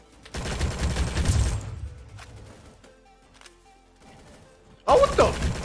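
Gunfire in the Roblox military game Rolling Thunder, with a dense burst of rapid shots, scattered quieter pops and then another sharp volley, mixed with game sounds.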